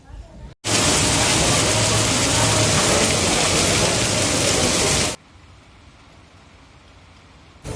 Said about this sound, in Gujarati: જોરદાર વરસાદ પડે છે વીજળી પણ થાય છે